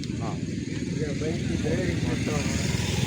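A motorcycle engine drones steadily on a hill road near the Brahmagiri and Nandi Hills area, continuous and fairly close, with people talking over it throughout.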